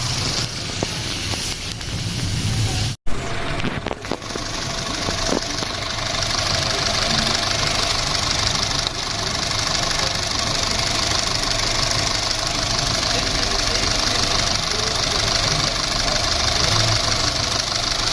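A car engine idles after its radiator fan motor was replaced, the fan spinning in a steady, loud whirring hum with a sharp knock or click early on, then an even drone to the end.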